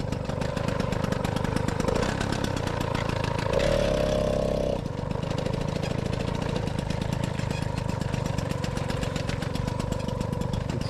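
A moped engine fitted with a Doppler ER1 exhaust runs steadily nearby with a loud, buzzing two-stroke drone, briefly shifting in pitch midway before settling back to a rapid idle.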